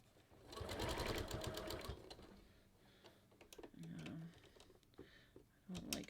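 A domestic sewing machine stitching a kangaroo pocket onto knit fabric, with a fast burst of rapid mechanical stitching followed by shorter runs and pauses with small handling clicks.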